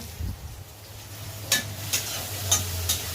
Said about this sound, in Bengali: আর এখানে পেঁয়াজ লাল হচ্ছে